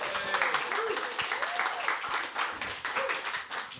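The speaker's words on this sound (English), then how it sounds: "can we get a round of applause from the audience of who enjoyed the film?" Scattered, moderately loud applause from a small audience after a live screening of the 2003 film Dead End, with brief voices and whoops over the clapping.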